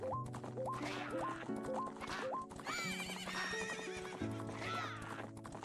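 Horse race in a Majora's Mask randomizer game: galloping clip-clop hooves and whinnies over steady game music, with rising pitched cues, fairly loud throughout and no talking.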